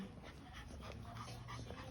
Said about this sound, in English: dogs gonna knock each other out.